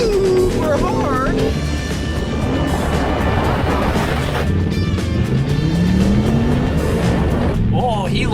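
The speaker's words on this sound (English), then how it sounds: "That i8 is so quick off the line." A BMW i8 launches and accelerates hard, its engine note climbing steadily over continuous road and wind noise while voices talk over it.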